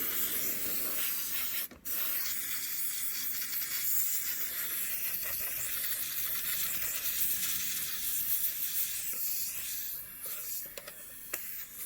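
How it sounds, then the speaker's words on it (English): Aerosol spray hisses in steady bursts while cleaning a dusty, loud PlayStation 4 console, a soft continuous rushing close to the mic with a brief sharp click near the start. "We'll just give this a little spray here."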